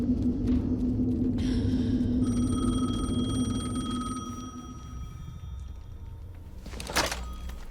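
A telephone rings inside the video game Alan Wake 2, a steady electronic ring with layered tones that runs for a few seconds over low ambient rumble, followed by a brief thud near the end.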